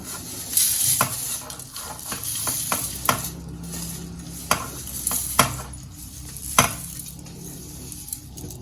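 Lentils and dried red chillies roasting in a pan are stirred repeatedly while making curry leaf powder, giving a steady sizzle broken by sharp scrapes and clinks of the utensil against the pan.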